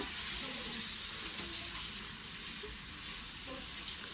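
Chicken cooking in a pan, heard as a continuous dense sizzle with faint stirring scrapes, steady and close throughout.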